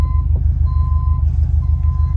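A delivery truck reverses, its backup alarm repeating steady beeps over a constant low diesel rumble close by.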